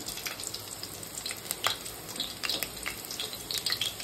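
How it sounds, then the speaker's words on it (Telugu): Green chillies frying in hot oil in a pan, giving a soft, continuous crackle and hiss with scattered sharper pops, heard faintly and up close without any talk. "ఆయిల్ బాగా హీట్ అయిన తర్వాత మిర్చి వేసుకోవాలండి"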